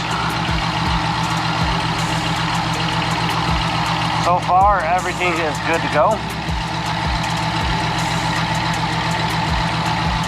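A RAM 1500 pickup truck engine idles with a deep, steady, louder exhaust rumble and regular low pulses while someone talks over it briefly.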